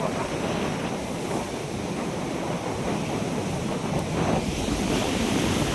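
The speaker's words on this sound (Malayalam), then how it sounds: "കാറ്റടിക്കുന്നു" Very strong wind at a beach at night mixes with crashing surf in a loud, continuous roar of broadband noise, with no speech.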